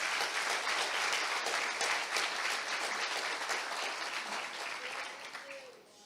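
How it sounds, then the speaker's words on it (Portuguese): A church congregation applauds the Lord during a service, a sustained wash of steady clapping that gradually tapers off near the end. "Você pode aplaudir ao Senhor pela sua palavra?"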